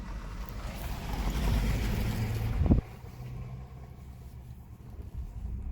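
A vehicle rumbles past on the Boreas Pass mountain road, a low engine swell that builds, peaks close by, then drops away to quieter ambience.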